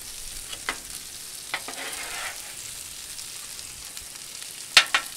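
Chicken, mushrooms and onions frying on a hot Blackstone griddle make a soft, continuous sizzle, with a few scraping clicks from a spatula stirring the food near the end, no talk.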